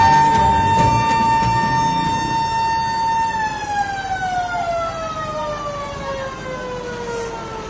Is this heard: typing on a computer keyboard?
no